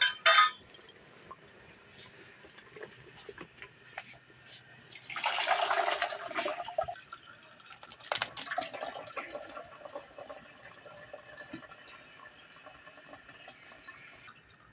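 Boiled taro leaves tipped out of a pot, with water splashing and draining in a home kitchen; a clink at the start, a loud pour near the middle, another brief splash, then a steady trickle.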